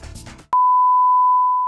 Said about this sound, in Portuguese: Esse zumbido incomoda, né? Imagina dormir e acordar com ele todos os dias.